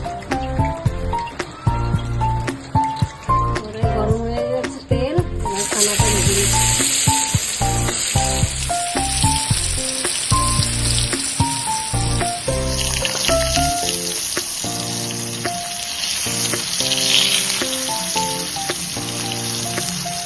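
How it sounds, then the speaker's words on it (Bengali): Pieces of food coated in turmeric fry in hot oil in a pan, giving a continuous close sizzle with scattered pops and clinks throughout, while music plays over it. "তেলটা দিয়ে দিই হলুদ আমার মতো মেখে নিচ্ছি মেখে ভেজে নেব"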